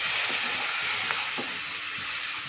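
Garlic fries in a pan for tomato rasam, giving a soft, continuous sizzle with faint scattered stirring taps, close and quiet.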